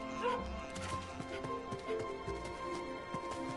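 Dog barking in the Gravity Rush 2 video game, several short yips and barks scattered over busy game sounds and background music.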